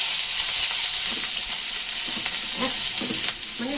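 Thinly sliced onions frying in oil with panch phoron and dried chilli, a loud dense close sizzle with occasional stirring scrapes.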